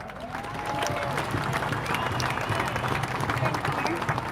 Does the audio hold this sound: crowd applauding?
yes